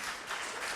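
Studio audience at a Spanish talk show on the limits of internet humour breaking into applause, a steady wash of clapping under a second of crowd noise.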